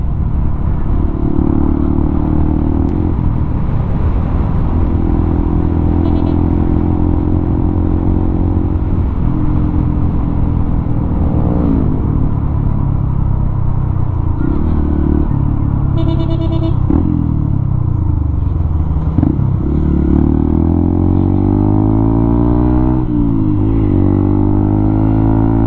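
A motorcycle rides along a coastal road in Cebu, its engine droning steadily and close for the whole stretch, with gear shifts and changes in revs.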